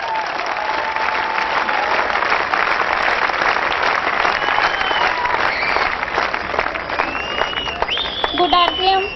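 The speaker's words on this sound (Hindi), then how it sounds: "आप सबकी जोरदार तालियों के बीच" An audience at an RCM business gathering in Punjab applauds loudly and steadily, a dense wash of clapping that continues throughout, with some whistles and shouts breaking through near the end.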